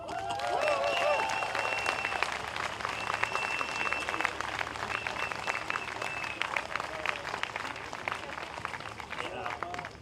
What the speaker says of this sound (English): Can we get a really warm round of applause for Lily Cole?